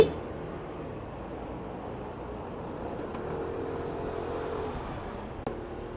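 Steady road and traffic noise from a motorcycle ride in traffic with the visor open, a continuous broadband rush of wind and engines that holds level throughout, with a brief knock near the end.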